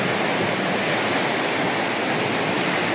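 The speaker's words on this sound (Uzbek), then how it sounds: "Sharshara juda ham tez." A fast-flowing waterfall roars steadily and loudly, a dense, unbroken wash of rushing water that stays close and constant throughout.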